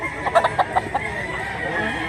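A rooster clucks in a short run of sharp, close calls, followed by quieter drawn-out fowl sounds, no speech.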